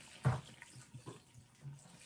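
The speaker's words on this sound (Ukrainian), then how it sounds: "А зараз зілью воду." Water poured off a pot of boiling borscht ingredients into a sink, a brief loud splashing gush followed by softer trickles and dribbles close by.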